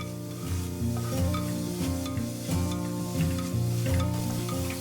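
Pieces of bitter gourd frying in oil in a pan, stirred now and then, with a steady sizzle and crackle running beneath a louder bed of tonal background music.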